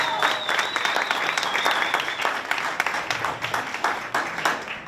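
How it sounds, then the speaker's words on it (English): An audience at a political event gives a sustained round of applause, many hands clapping steadily and fairly loudly, with a few sharper claps and a brief high whistle early on. "Another round of applause for you."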